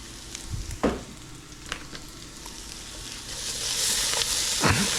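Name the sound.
tomato paste frying in rendered fat for carne con papas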